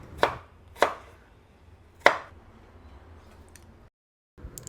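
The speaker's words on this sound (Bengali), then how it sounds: "একটা আলুর খোসা ভালো করে ছাড়িয়ে লম্বা লম্বা করে কেটে নেব।" A knife cuts a peeled potato into long strips: three crisp, separate thuds against the board, spaced unevenly, then quiet.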